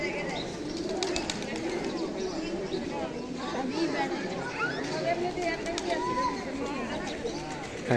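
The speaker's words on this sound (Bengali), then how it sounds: "এখানে হচ্ছে জালালি কবুতর" Crowds of Jalali pigeons at the Shah Jalal shrine coo and flutter in a busy, nearby chorus, while people chatter and talk over the birds throughout.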